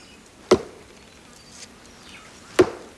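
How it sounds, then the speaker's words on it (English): An axe strikes a Tasmanian tree trunk twice, about two seconds apart, each blow a sharp, hollow knock, close and distinct against quiet outdoor background with no talking. "the old bushmen, they hit the tree with the axe"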